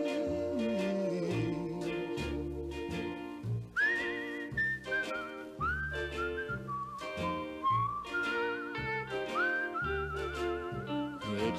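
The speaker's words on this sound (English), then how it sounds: "It's a whistling tune." A person whistles a melodic tune solo over an accompanying instrumental backing, with clear sustained notes, pitch glides and ornamented trills. The whistling runs continuously at a moderate, even loudness.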